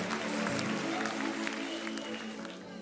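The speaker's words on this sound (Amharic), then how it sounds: "አጨብጭቡና ቁጭ በሉ።" A church congregation at a youth conference applauding together, a dense sustained roomful of clapping heard close and loud throughout, with faint voices mixed underneath.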